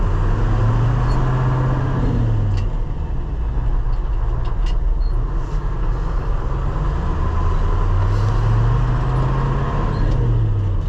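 Old Detroit diesel engine in a truck during bean harvest, a steady loud low rumble throughout with slow rising and falling tones as it drives and shifts through an unsynchronized transmission, no voices.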